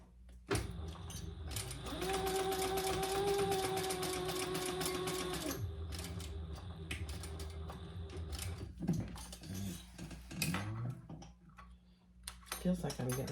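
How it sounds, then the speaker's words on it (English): A sewing machine stitches rows on a Retro Tec sling bag, whirring steadily and close for several seconds before stopping, followed by scattered clicks and handling of fabric and machine parts. "And then I am going to do 2 rows of stitches."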